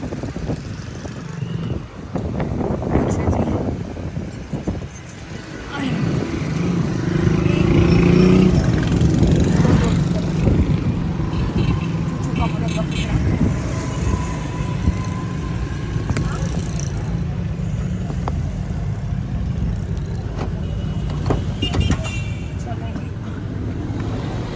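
Busy road traffic on an Indian street: a steady, loud wash of car and motorbike engines that swells and holds across the whole stretch, with people talking nearby.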